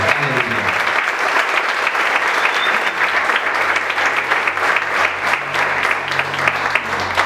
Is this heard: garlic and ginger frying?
no